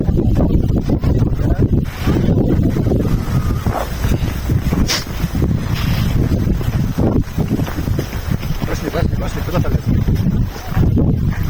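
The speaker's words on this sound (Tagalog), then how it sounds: "Medyo mahangin talaga." Strong wind buffets the microphone in loud, rumbling gusts throughout, with people talking underneath.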